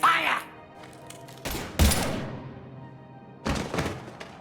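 Gunfire in the video game Mass Effect 3 lands as a few heavy, booming shots spaced over four seconds, each with a short decaying tail, against a quiet background.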